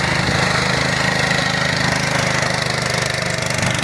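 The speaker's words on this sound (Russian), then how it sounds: "Нормальный этот, как мини-трактор." A homemade mini-tractor fitted with motorcycle wheels runs its engine loudly and close while mowing hay, a steady chugging drone with a fast regular pulse and no talk over it.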